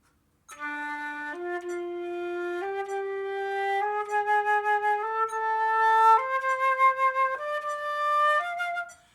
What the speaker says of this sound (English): And the swinging duplets would sound like this.